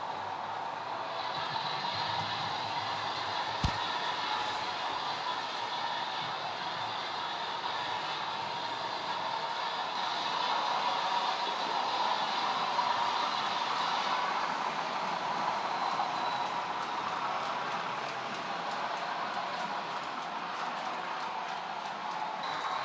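A model train on a shuttle track at the back of a Cheshire Lines layout runs steadily back and forth, giving a continuous low rolling rumble with faint clicks throughout, fairly consistent in loudness and without voices.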